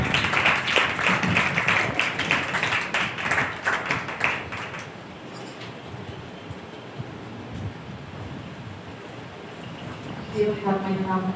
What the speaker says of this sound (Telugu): అందరూ చప్పట్లు కొడుతూ సేవకులను ఆహ్వానిస్తాం.